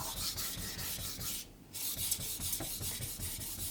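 A VG10 steel knife strokes back and forth on a 1000 grit Atago whetstone in a close, rhythmic scraping, with a brief pause midway between passes.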